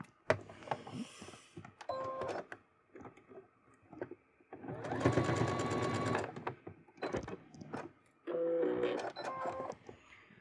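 A home sewing machine stitches a bustier, sewing over a pin, in short starts followed by two longer steady whirring runs of motor and needle, close by in a quiet room.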